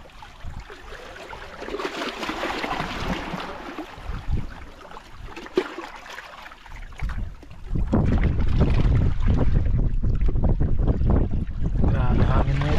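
Strong wind buffets the microphone out at sea on a small fishing boat, gusty roaring rumble that swells louder in the second half, with faint voices in places.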